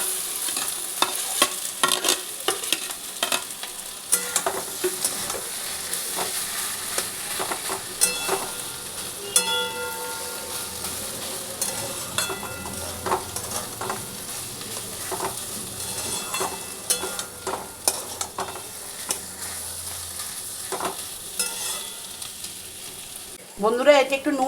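Potatoes fry in hot oil while being stirred around the pan, giving a continuous sizzle with frequent scraping and clattering strokes and a louder clank near the end.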